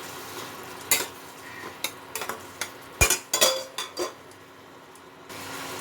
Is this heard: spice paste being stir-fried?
yes